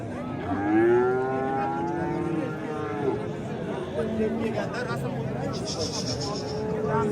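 Bulls moo loudly nearby at a livestock market, one long low call followed by a few more, over a background of crowd chatter and murmuring voices.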